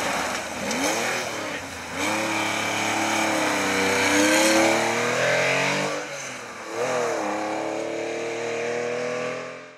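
A Porsche 911 rally car drives hard on a loose gravel stage, its engine revving up and down through gear changes and lifting off briefly, loud and close throughout.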